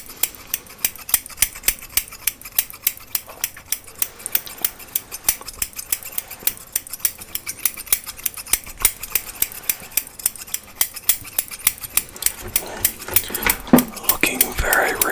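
Barber scissors snip steadily through hair in a close ASMR haircut roleplay, a fast, even run of crisp metallic clicks that continues without pause and thickens slightly toward the end.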